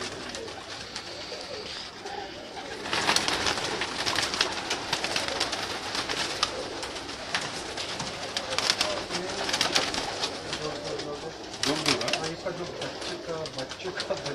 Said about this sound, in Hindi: माशाल्लाह बहुत अच्छे कबूतर हैं